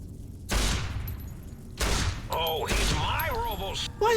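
Magnum revolver fire in Fallout New Vegas: three sharp, loud gunshots spaced over a few seconds, each with a short ringing tail, alone without talk.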